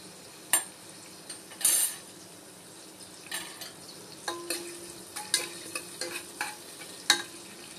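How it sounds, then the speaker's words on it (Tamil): Mustard seeds, cumin and curry leaves tempering in hot oil for beans rice, a low sizzle broken by scattered sharp pops and clicks of stirring, close and without talking. "எண்ணெய் காஞ்சோன்னே கடுகு, சீரகம், கருவேப்பிலை போடணும்."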